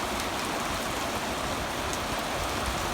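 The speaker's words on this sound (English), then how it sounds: "But it's raining now." Steady rain falls outdoors near a house and garden, a dense, even hiss of drops that continues without a break for the whole stretch.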